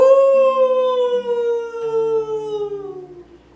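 A wolf howls as a theatrical sound effect in a staging of Macbeth: one long, clear, tonal howl that slowly falls in pitch and fades out, loud and alone.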